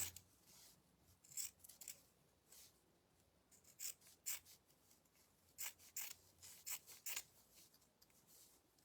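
Scissors cutting fabric for striped candy cane craft, a series of close, quiet crisp snips in irregular bursts with brief pauses between.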